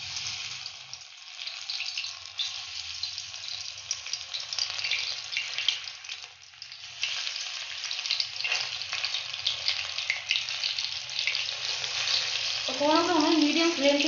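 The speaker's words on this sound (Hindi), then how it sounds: "पकौड़ों को हमें मीडियम फ्लेम पे पकाना है" Moong dal pakoras fry in hot oil on a medium flame, giving a loud, steady bubbling sizzle that runs throughout with no talk, swelling slightly partway through.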